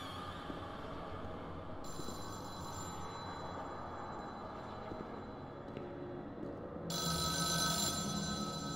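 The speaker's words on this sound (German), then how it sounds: "Das ist gruselig, wenn hier ein Telefon klingelt." A telephone rings in a deserted building in the horror video game The Town of Light, with a steady electronic ring over a dense, droning background hum that swells louder toward the end.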